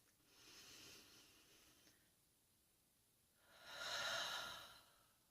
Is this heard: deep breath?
yes